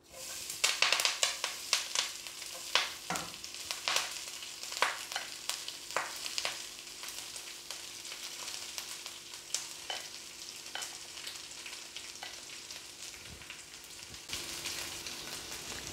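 Drumstick leaves and grated coconut stir-fried in oil after mustard seeds have popped: a continuous close sizzle with frequent crackles and spatula scrapes, busier at first and then settling into an even fry.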